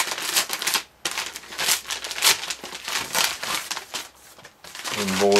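Paper envelope being torn open and crinkled to reach LEGO poly bags inside, a busy run of ripping and rustling close up, with a voice speaking briefly at the end.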